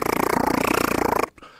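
A person imitates a cat's loud purr with the voice, a steady rhythmic rumbling pulse held close and loud for over a second before it cuts off abruptly.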